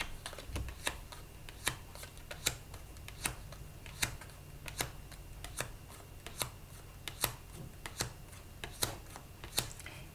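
A deck of playing cards being cut and shuffled, a run of sharp riffling snaps every second or so over a soft rustling bed, close and fairly quiet with no talking.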